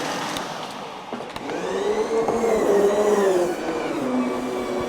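A carpet cleaning machine runs steadily with a loud whining motor hum and a shifting pitch, a few clicks at the start before it settles into a continuous drone, heard alone.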